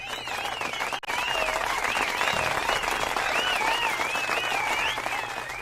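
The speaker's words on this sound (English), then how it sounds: "All right, get them the round of applause here." A canned round-of-applause sound effect played during a broadcast, dense steady clapping with crowd noise and whistles that holds for several seconds before tapering slightly at the end.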